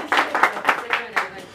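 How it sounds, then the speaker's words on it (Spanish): Audience applause at a Mother's Day event with a youth mariachi group, brief, with a handful of loud clapping bursts in a short uneven rhythm. "nuevamente ese aplauso, que se escuche bien bonito el aplauso"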